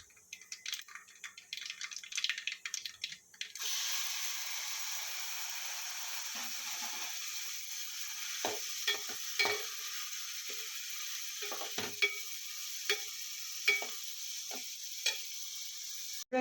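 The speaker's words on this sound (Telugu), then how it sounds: "ఇప్పుడు దీంట్లో కొంచెం పసుపు వేసుకొని దీనిలో నెత్తళ్ళు ఒక 10 to 15 మినిట్స్ వేయించుకుందాం." Small anchovy fish with turmeric fry in a pan: a faint clatter for a few seconds, then a steady hissing sizzle sets in, punctuated by occasional clicks and stirs.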